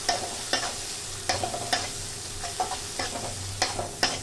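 Grated paneer frying in hot oil, a continuous low sizzle broken by repeated sharp scraping strokes of a spatula stirring it, close up with no talking.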